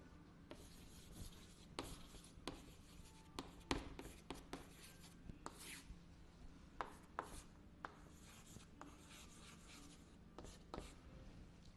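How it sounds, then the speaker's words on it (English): Chalk scratches across a classroom board in short, faint strokes and taps, with pauses between bursts as answers are written. "I shall write the answers on the board for you."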